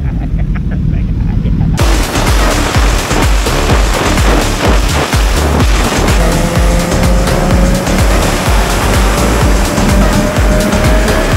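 A Suzuki Hayabusa motorcycle races at wide-open throttle using a quick shifter, its engine roaring loud and continuous with rising pitch sweeps, while voices talk over the noise.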